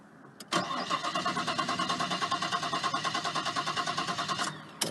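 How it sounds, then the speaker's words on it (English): A Nissan Skyline engine cranks in a steady rapid rhythm for several seconds after a fuel filter replacement, loud and close, without catching into a run, then cuts off. "then we'll crank it, let it get filled with fuel"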